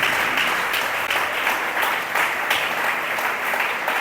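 A church congregation bursts into loud, sustained applause during a sermon, a thick wash of clapping with faint rhythmic surges, close and enveloping.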